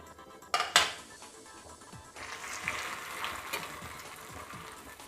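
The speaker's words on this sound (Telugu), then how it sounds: "ఇప్పుడు ఒక్కొక్క బ్రెడ్ స్లైస్ ఎర్రగా వేగిపోవాలి" Bread slices fry in a pan, a soft sizzle underneath sharp metallic clinks and scrapes of utensils against the pan near the start, then quieter shuffling.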